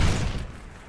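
A frag grenade goes off in Call of Duty Black Ops during a Search and Destroy match, a single loud, close boom that decays quickly in under a second.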